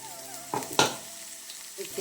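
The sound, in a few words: crushed garlic and dried red chillies frying in hot oil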